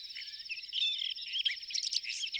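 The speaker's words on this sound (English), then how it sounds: "They are migrants from Africa and hunt for crickets among the grass." Crickets chirp steadily in grassland where shrikes hunt, a dense, continuous high-pitched trilling that swells slightly louder partway through and carries on with no voices.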